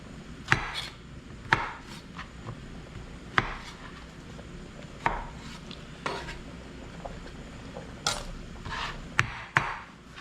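A knife slices through zucchini on a cutting board, with about a dozen crisp, evenly spaced chops over a low kitchen background, close and clear, and no talking.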